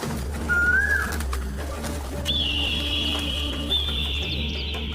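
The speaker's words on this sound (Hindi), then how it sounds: "दूसरे दिन सुबह में कोयल आकर कूकने लगती है" Koel birdsong from a cartoon village morning: two whistled calls, a short one early and a longer sustained one later, clear over a steady low hum, with no talking.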